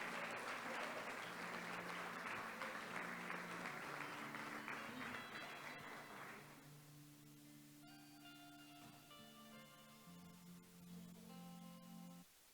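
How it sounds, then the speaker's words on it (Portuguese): A church congregation applauds loudly for about six seconds, a thick, even wash of clapping, then it fades as sustained keyboard or organ tones carry on alone. "volte aplaudindo ao Senhor"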